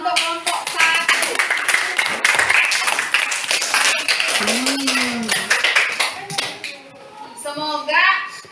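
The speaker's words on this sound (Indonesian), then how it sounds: "Tepuk tangan untuk kelompok 1." A classroom group of students applauds the winning team, Group 1. The clapping is brisk and dense for several seconds, then thins out as a teacher and children's voices talk over it.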